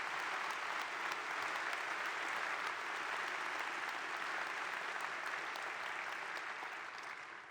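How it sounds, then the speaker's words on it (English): A large audience at a university presidential inauguration applauds steadily, a dense, even wash of clapping that holds for several seconds and fades slightly at the end. "Let's give them another round of applause."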